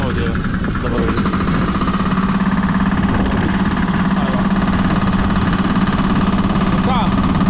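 A 500 kg vibratory plate compactor runs steadily and loudly close by, a constant rumbling drone with a strong low hum that never pauses.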